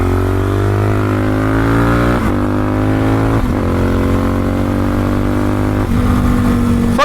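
A Suzuki DRZ-400SM motorcycle being ridden on a gravelly road, its single-cylinder engine droning loudly and close with a steady harmonic buzz, dropping and rising sharply at three downshifts spaced a couple of seconds apart.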